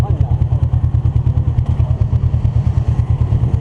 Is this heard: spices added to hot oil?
no